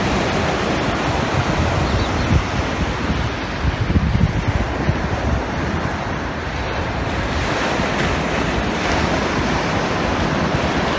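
Rolling sea waves crash and wash continuously on the coast at Alanya, Turkey, mixed with strong wind buffeting the microphone, loud and close, with no voices.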